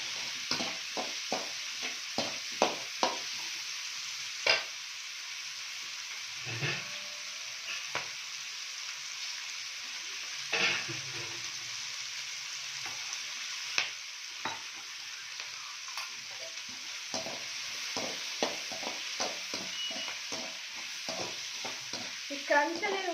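Vegetables including capsicum and onion are stir-fried in a pan for chicken Manchurian, with a steady soft sizzle running throughout and frequent close scraping and clacking of a spoon stirring against the pan.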